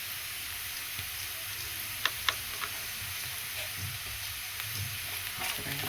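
Chilli powder and onion-garlic masala frying in a pan for goat brain fry, a soft continuous sizzle with occasional light clicks of a spoon against the pan.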